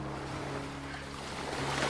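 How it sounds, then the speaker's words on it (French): Sea waves washing gently ashore at the water's edge, heard as a steady, dense wash of surf without distinct breaks, fairly close and continuous, with a faint low hum underneath and no voices. "ces vagues qui viennent s'échouer tranquillement à vos pieds"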